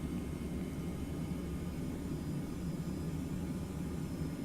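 A TFDI 717 jet airliner in a flight simulator, departing Las Vegas, roars on its takeoff run with a steady broad rumble, moderately loud and constant throughout, with no speech.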